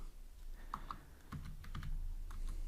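Computer keyboard typing while coding a Room database note app, a handful of quiet, close key clicks in short irregular bursts over a faint room hum, with no speech.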